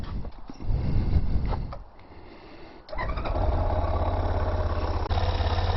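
A Zongshen 5-speed 190cc engine fitted to a TaoTao Hellcat go-kart starts and settles into a close, steady putt-putting idle after some handling noises and a brief revving surge.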